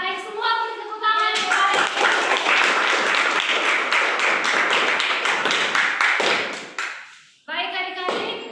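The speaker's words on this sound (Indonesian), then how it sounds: "semua beri tepuk tangan" Children in a classroom clap together in a burst of rapid, overlapping claps lasting several seconds, framed by a teacher's speech before and after.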